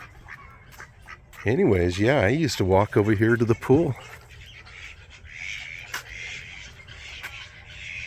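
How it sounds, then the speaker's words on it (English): Ducks quack and birds squawk faintly in the background near a pool, mostly beneath someone talking, with a little more bird noise after he stops. "Got a bunch of ducks."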